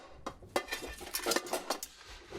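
Metal pans clank and clatter as they are handled, a series of irregular knocks and scrapes, fairly quiet and close.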